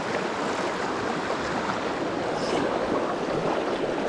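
Heavy, rain-swollen river current rushing past at close range, a dense continuous roar of churning water with no pauses and no talking.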